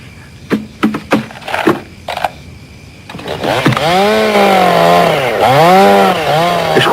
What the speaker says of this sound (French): Je croyais lui avoir dit de me couper cette tronçonneuse